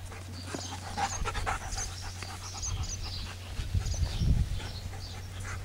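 A dog pants rapidly and rhythmically close by, with quick jaw snaps at the air breaking through the breathing.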